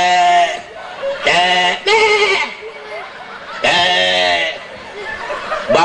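A man imitates a female goat's bleat with his voice, giving several loud, wavering, nasal bleats in separate bursts with short pauses, some voices and laughter in the background.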